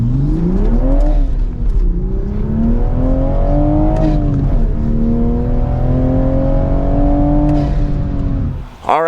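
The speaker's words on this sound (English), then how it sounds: "I can do a very fast first to second gear change" A manual Toyota Supra's engine revs hard and close up, climbing in pitch, dropping sharply at a quick first-to-second gear change, then pulling up again steadily.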